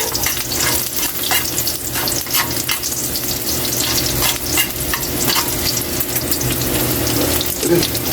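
Carrots and potatoes frying in hot oil for a pork estofado, a steady dense sizzle running the whole time with occasional stirring clinks and scrapes, fairly loud and close, with no talking.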